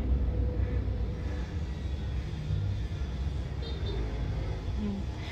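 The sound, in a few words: Suzuki mini van engine running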